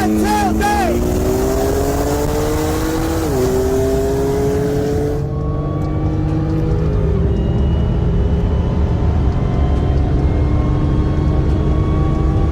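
A BMW S55 turbo inline-six engine revving hard, with rising pitch across the gear changes before easing back to a lower steady drone. Loud and close throughout.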